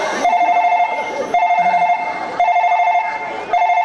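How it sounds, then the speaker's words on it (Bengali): A telephone rings in repeated bursts, each a sustained electronic trill separated by short pauses, with faint talk in the gaps. "এই তো এই তো কায় ফোন করছে"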